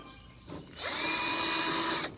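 A 1/4-inch nut driver, apparently powered, unscrews the electrical terminal screws on a clothes dryer, giving a short close whir of under two seconds after a faint click.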